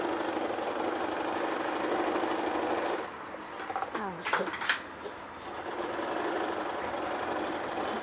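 An Usha sewing machine runs steadily at close range while stitching a picot stitch, with a continuous mechanical hum and rapid needle rattle that drops out briefly in the middle and then resumes.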